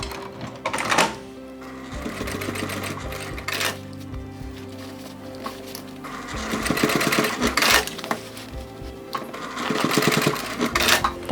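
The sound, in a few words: sewing machine basting the side seam of a crossbody bag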